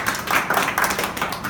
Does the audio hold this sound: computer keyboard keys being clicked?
no